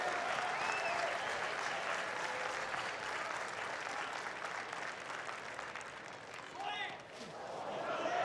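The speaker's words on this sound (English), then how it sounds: "Crowd coming alive." A crowd at a college baseball game between Minnesota and Oregon State cheers and applauds steadily, a broad roar that dips slightly late before building again.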